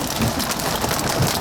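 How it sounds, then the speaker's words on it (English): Hail about two centimetres across falls at night under a supercell storm in Croatia, a dense, continuous close-up patter and clatter with no gaps. "I'm having like 2 centimeter hail."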